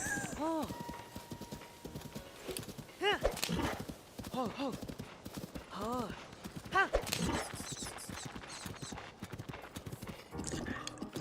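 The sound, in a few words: horse hooves clip-clopping, from the video game Zelda: Tears of the Kingdom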